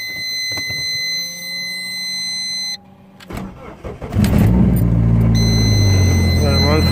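A 1998 Dodge Neon with a swapped, straight-piped 2.4-liter four-cylinder cranks and fires up, settling into a loud, rough, raspy idle after a steady electronic tone cuts off.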